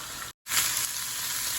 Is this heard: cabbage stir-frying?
yes